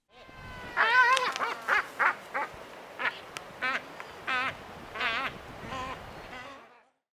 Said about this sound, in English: Albatross.